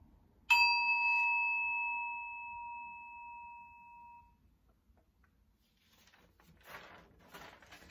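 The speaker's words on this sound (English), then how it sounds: "I'm going to ring our bell in just a second." A single bright bell strike rings out clearly, its pure tone sustaining for several seconds before fading, followed by faint rustling.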